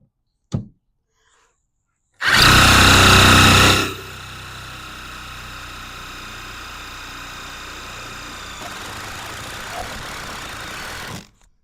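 A power tool whirs in a short loud burst as it drives a 3-inch screw through a 2x4 into the metal of a cargo trailer, followed by a lower steady engine-like hum and a brief click before.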